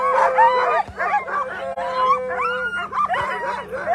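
A chorus of sled dogs howls, yips and barks excitedly at the start of the Knik 200 mile dog sled race, loud and close, with overlapping wails and whimpers throughout.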